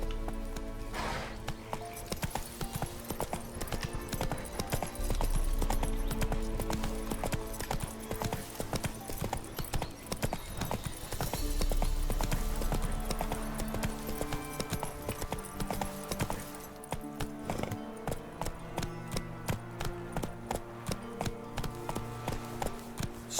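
A horse galloping in The Witcher 3, a fast, steady clip-clop of hooves close by that continues throughout over a bed of game music.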